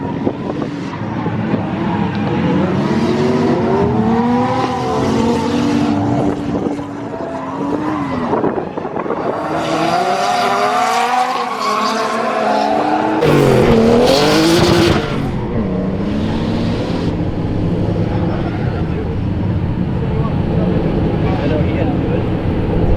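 A turbocharged S52-powered BMW E36 drift car howls and revs hard, its engine note rising and falling through long slides with bursts of tire squeal, loud and close, while a voice talks over parts of it.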